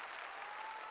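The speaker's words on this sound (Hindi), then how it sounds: "आप लोग अपने लिए एक जोरदार तालियां बजाएंगे" An audience at a motivational achievers' celebration breaks into loud, dense applause that fills the whole short moment, steady and close with no gaps.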